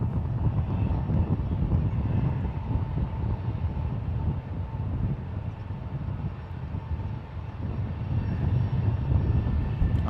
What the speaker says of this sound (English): American Airlines Flight 1659 coming in from Charlotte, North Carolina. It's an Airbus A321